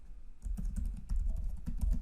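A password being typed on a computer keyboard, with rapid, irregular key clicks close up over about two seconds, and no talking.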